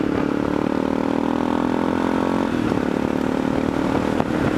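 Aprilia Pegaso motorcycle engine running steadily while riding, a continuous mid-pitched drone mixed with wind noise, with a slight shift in tone partway through and no talking.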